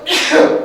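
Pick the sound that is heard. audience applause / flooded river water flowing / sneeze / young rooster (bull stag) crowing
sneeze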